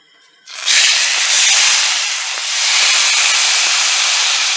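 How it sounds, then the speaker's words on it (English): A tomahawk ribeye steak hits a hot cast-iron pan slicked with avocado oil, bursting into a loud, sustained searing hiss right after a brief quiet start and holding steady to the end. "We're going to get a nice sear on our steak"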